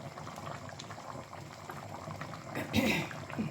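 A pot of chicken and potatoes boiling on the stove, a close bubbling simmer with a brief louder gurgle near the end, under quiet background talk.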